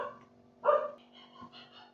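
A dog gives a single clear bark, followed by fainter, shorter yips, at a moderate distance.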